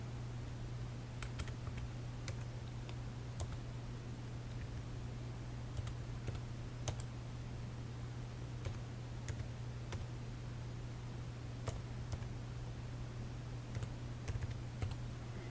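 A debit card number is typed on a computer keyboard in quick, irregular clusters of crisp key clicks over a steady low electrical hum, fairly quiet and close.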